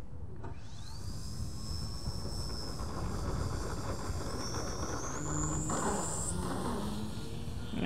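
A 67-inch electric model airplane on a 6S LiPo battery whines steadily overhead, its motor pitch rising and falling as it maneuvers in choppy air, with constant wind noise underneath.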